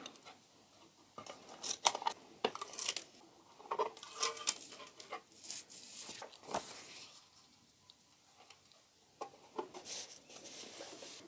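Scissors snip through excess tape on a nautical beach-decor craft piece, a string of quick, close, crisp cuts in irregular bursts with small pauses, no talking.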